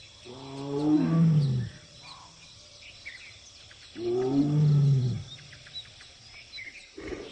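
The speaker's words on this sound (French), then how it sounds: "Il tente d'en attirer une avec ses rugissements." Bengal tiger roaring to attract a female, two deep, powerful roars several seconds apart, close and loud, over a quiet wild background with faint bird calls.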